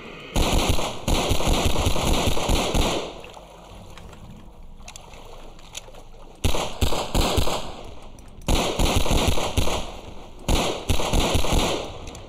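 Bursts of rapid gunfire ring out in a Half-Life map, with loud clustered volleys separated by brief quiet gaps, several distinct rounds of shooting over about twelve seconds, without talk.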